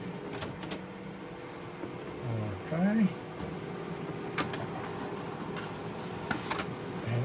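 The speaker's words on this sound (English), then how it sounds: "And this printer actually does them back to back now, which is really nice." A small home printer runs off a double-sided card, giving a brief mechanical whir and feed clunks amid quiet room tone, with a person speaking briefly nearby.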